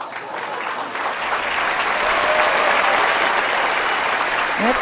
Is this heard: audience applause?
yes